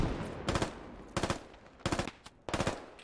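Suppressive gunfire in the military shooter Squad comes as four sharp automatic bursts separated by short pauses, loud and close, with faint background noise between them.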